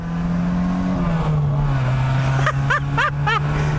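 A Volkswagen Golf GTI hot hatch pulls on the throttle with a steady, droning engine note heard from inside the cabin, joined near the end by a few short, high chirping sounds.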